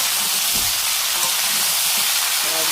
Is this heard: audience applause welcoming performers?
no